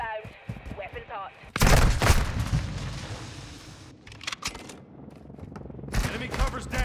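A close air support strike in the video game Call of Duty MWII: sudden loud bursts of gunfire and heavy impacts kick in and repeat in volleys, mixed with radio chatter and voices talking over the barrage.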